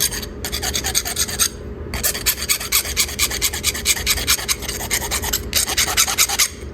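Metal jewelry is sanded by hand in quick rhythmic back-and-forth rasping strokes, close and loud, with two short pauses between bursts of scraping.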